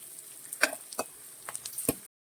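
Onions frying with ginger and green chilli in a pan for egg curry, a steady soft sizzle punctuated by several sharp spoon-stirring scrapes and taps, close and clear with no talking.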